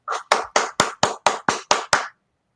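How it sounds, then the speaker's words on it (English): Nine sharp, evenly spaced hand claps ring out loud and close in a steady rhythm, then stop, with no voices over them. "You can clap all you want"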